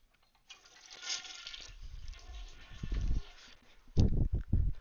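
A household toilet flushes close to a HyperX Cloud Flight S headset microphone, a rushing swirl of water building and surging, then gurgling in uneven bursts as the bowl drains and refills.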